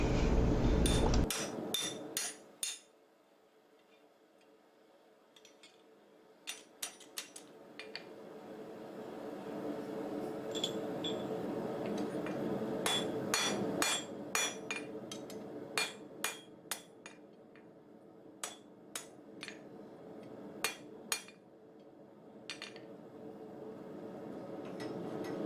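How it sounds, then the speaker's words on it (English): Blacksmith hammer blows drive a punch through a hole in round-jaw tongs to drift it out. The ringing metallic strikes come in quick clusters, separated by pauses, and sound close and sharp. "I'm going to use my punch again just to kind of get everything re-rounded back up and drifted out a little bit"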